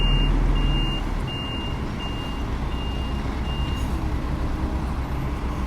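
A lorry backs up to tip its load at a ship-loading site in Ireland, its reversing alarm beeping in an even, regular series of six tones over a loud, continuous diesel engine rumble.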